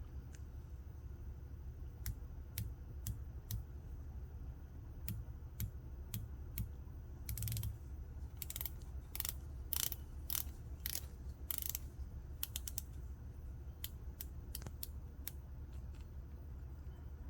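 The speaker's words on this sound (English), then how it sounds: "So let's take a look at the bezel action." Rotating bezel on a Smiths Traveller PRS-58 GMT watch with a Miyota 9075 movement, clicking close up in sharp, crisp ticks: spaced single clicks at first, then faster bursts of ratcheting clicks against a quiet background.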